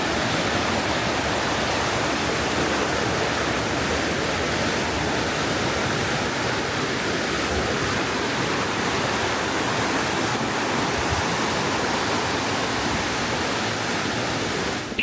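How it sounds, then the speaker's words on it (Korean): Mountain valley stream at Yumyeongsan rushing beneath a steel deck trail, a dense, steady roar of flowing water that stays loud and unbroken throughout, with no voices. "철제 데크길 아래로 흐르는 계곡물은 아찔해지기도 합니다."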